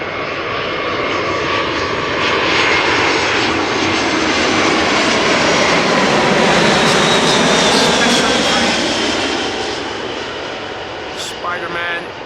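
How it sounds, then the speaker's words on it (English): A Vueling Airbus A320 arriving at Amsterdam Schiphol from Barcelona passes close overhead, its jet engine roar swelling to a loud peak midway and then fading, with a voice talking over it. "Vueling A320 arriving from Barcelona"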